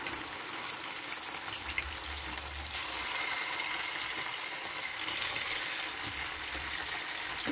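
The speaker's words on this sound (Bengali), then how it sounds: "চিকেনগুলো দিয়ে দিচ্ছি। চিকেনগুলো ভেজে নেবো, হালকা হালকা করে ভেজে নেবো" Chicken pieces fry gently in a pan, making a continuous close hiss and sizzle with small crackles and some low rumbling stirring, with no talking.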